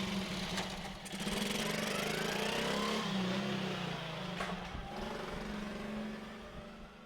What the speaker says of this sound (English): Scooter sounds.